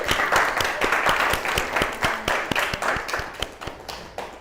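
A lecture audience bursts into sustained applause, dense and steady at first and then thinning into scattered, separate claps toward the end.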